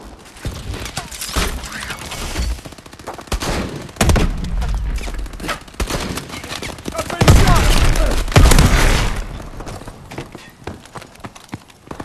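Dense video game gunfire from Call of Duty: Advanced Warfare Exo Survival, with bursts and rattling volleys swelling louder around the middle and tailing off. Clipped shouted callouts are mixed in.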